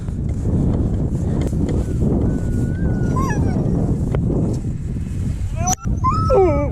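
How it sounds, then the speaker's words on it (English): Several sled dogs in Greenland whine, yip and bark over a busy, noisy background, with high whimpers rising and falling near the end. "These are our dogs."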